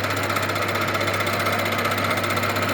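A milling machine cutter spins at 900 RPM, machining a handmade Triumph triple tree yoke, producing a steady, close, rapid chattering hum with no pauses over a few seconds.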